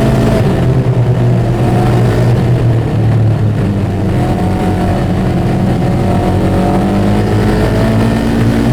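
A Polaris RZR 900S side-by-side drives during a belt break-in test, its engine droning loud and close with a steady rumble and slowly shifting pitch as it accelerates.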